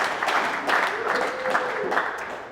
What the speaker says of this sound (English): Round of applause in the back.